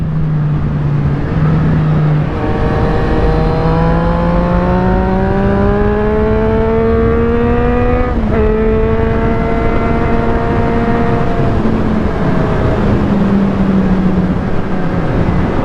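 Triumph Street Triple 765 R motorcycle ridden on new Michelin Pilot Road 5 tyres, its engine note climbing steadily through the revs, dipping at a gear change, then pulling again, loud and close with no talking.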